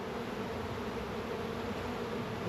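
Steady buzzing hum of many honey bees at a hive, continuous and fairly close, with no talking.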